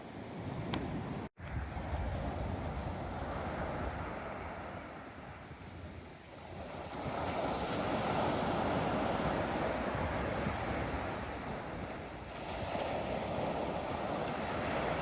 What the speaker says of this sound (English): enjoy the waves lapping on the shore